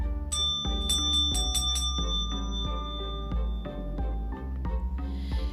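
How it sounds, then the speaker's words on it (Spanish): A small bell rings again and again, bright struck tones falling in an uneven series, some close together and others spaced apart, each ringing on briefly, with no voices. "La campanilla volvió a sonar"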